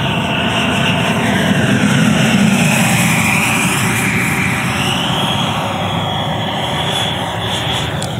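An electric ducted-fan model jet, the 11.3 kg Odyssey with a JETFAN-120 Pro fan, flies a slow lap around an airfield, its loud continuous whooshing whine steady and close, shifting slightly in pitch as it passes, with no talking.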